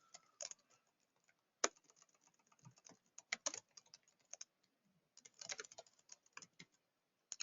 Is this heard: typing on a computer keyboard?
yes